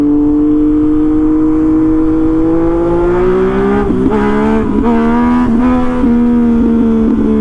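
A Yamaha MT-09 motorcycle engine hums loudly at a steady pitch while riding, sliding slightly lower before a series of quick throttle blips that make its tone jump and fall several times.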